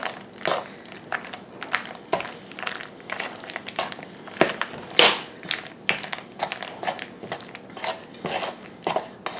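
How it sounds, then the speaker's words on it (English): Cheesy macaroni salad stirred in a bowl until creamy, a close series of wet squelching scrapes and spoon knocks in an uneven rhythm, with no talking. "we're going to stir until it's creamy"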